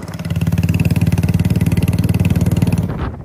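A motorcycle fitted with an aftermarket silencer idles loudly nearby with a deep, rapid, throbbing exhaust beat that cuts off just before the end.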